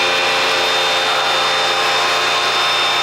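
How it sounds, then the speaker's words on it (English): An oil vane vacuum pump runs in a maple sugarhouse, giving a loud, steady mechanical drone with a constant hum and no change over a few seconds, close by and alone. "So the vacuum pump is in here."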